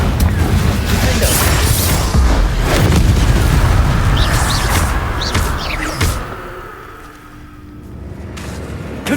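Bombarda and Confringo spells detonate in a Hogwarts Legacy battle, loud repeated booming explosions and crashing debris for several seconds that taper to a quieter rumble near the end.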